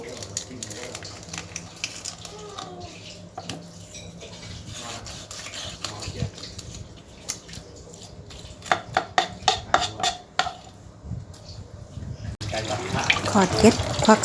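Fresh red snapper washed by hand under a running kitchen tap, steady splashing water with knocks and clatters against a sink and dishes, sloshing louder toward the end.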